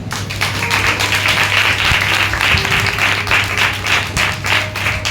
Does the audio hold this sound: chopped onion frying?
no